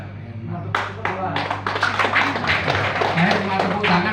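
An audience claps their hands in a burst of quick, uneven claps that starts just under a second in and keeps going, close and fairly loud, with voices talking over it.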